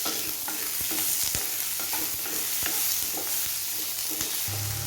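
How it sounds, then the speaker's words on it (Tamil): Two medium tomatoes are sautéed with onions in a pan for cauliflower gravy, producing a constant bright sizzle with intermittent stirring scrapes and taps, close and fairly loud, with no one speaking. "தக்காளியும் நல்லா வதக்கி விட்டுக்குவோம்."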